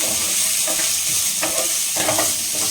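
A spoon stirs a snack mixture with chopped vegetables frying in a hot pan, a steady close sizzle with soft scraping strokes rising and falling throughout.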